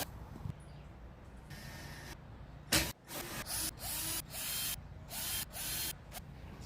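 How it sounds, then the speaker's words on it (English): Screws are driven into wood while a bed frame is built, a power driver whirring in short repeated bursts with pauses between. The bursts are fairly faint and close, with no voices. "And the screwing begins."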